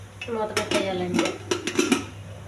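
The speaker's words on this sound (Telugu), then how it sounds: "మూత పెట్టేయాలండి" A pressure cooker lid of metal is set onto a cooker of potatoes on the stove, giving several sharp clanks and rattles in quick succession, close up with a faint voice under it.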